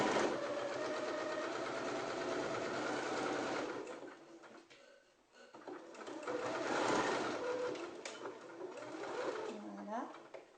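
A domestic sewing machine stitches a fabric face mask in short runs of fast, even whirring, pausing briefly between seams, while someone speaks softly in French over it.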